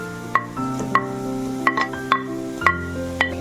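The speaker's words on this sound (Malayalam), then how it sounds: "അതിലേക്ക് നമുക്ക് ക്യാരറ്റ് ഇട്ട് കൊടുക്കാം. ഇളക്കി കൊടുക്കാം." Carrots tossed and stirred in a frying pan, a spatula clinking against the metal in several distinct taps over a soft ongoing sizzle, close and alone without talk.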